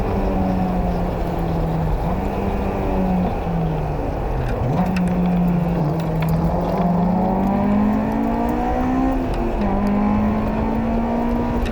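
A Honda S2000 race car lapping the Oregon Raceway Park South Loop at a time trial, its engine loud, close and continuous, with the pitch rising through the gears and dipping briefly on shifts and corners.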